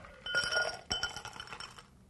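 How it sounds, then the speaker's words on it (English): A freshly shaken cocktail is poured into a highball glass, with bright glassy clinks and the rattle of ice landing in the glass in two quick bursts, close and fairly quiet. "I'm going to pour this into a highball glass."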